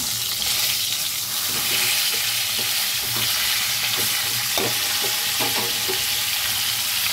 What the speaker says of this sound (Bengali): এবার এর মধ্যে আমি পটলগুলি দিয়ে আমি ভেজে